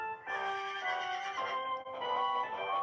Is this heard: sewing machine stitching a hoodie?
no